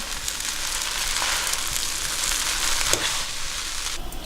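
Lobster house-special noodles frying in sauce over high heat in a wok, a steady close sizzle and crackle running throughout with a couple of brief scraping stirs.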